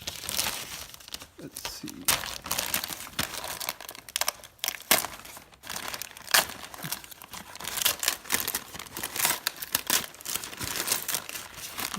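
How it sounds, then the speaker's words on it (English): Rust-Oleum Peel Coat rubber coating being peeled off car wheel lug nuts: steady close crinkling and tearing rips, irregular and continuous, with a brief spoken remark in between. "You can just peel it off carefully"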